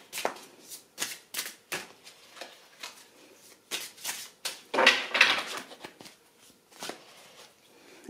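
Tarot cards being shuffled by hand, with repeated quick papery riffling bursts in an uneven rhythm, close and moderately quiet, and no talking.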